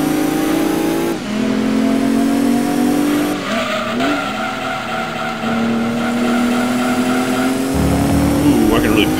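Stock Subaru Legacy engine in Gran Turismo 2, revving loud and steady with rising pitch through gear shifts while tires squeal under it, and someone talks over it.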